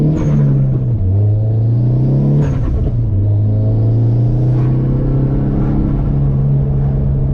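A 300 WHP Tomei turbo Genesis Coupe holding against the two-step launch control, a loud throbbing engine rumble with revs dipping and rising and sharp crackling pops, close and continuous with no talking.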